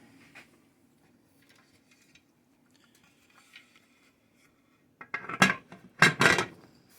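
A metal lid is set onto a pressure canner loaded with five quarts of jars, giving a short cluster of clanks and clinks near the end after a mostly quiet stretch.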